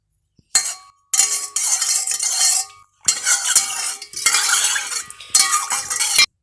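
A spoon scraping and clinking around a bowl in several bursts of stirring turmeric and coffee into a marinade for eggs, separated by short pauses, close and fairly loud.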